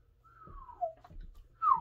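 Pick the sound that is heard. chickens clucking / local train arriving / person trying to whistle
person trying to whistle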